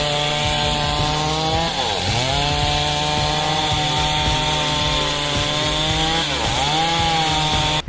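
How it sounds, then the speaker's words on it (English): A chainsaw operator cuts wood to exact dimensions, 7 by 14 by 225 centimeters. The loud saw runs steadily and close for the whole stretch, with two brief dips in pitch as the chain bites into the cut. "Watching this chainsaw operator hit exact dimensions, 7 by 14 by 225 centimeters,"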